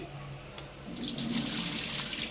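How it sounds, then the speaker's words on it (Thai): Cold water poured from a tap while cooking stir-fried pork skin with Chinese celery, a steady splashing stream that swells in the middle and runs continuously, without speech. "อันนี้เราก็น้ำเย็นใส่นะครับ"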